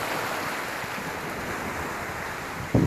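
Ocean surf rolls steadily onto the beach at Kribi, Cameroon, a continuous broadband wash of breaking waves with a louder surge at the very end.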